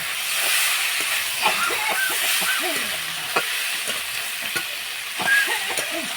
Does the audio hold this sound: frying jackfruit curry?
yes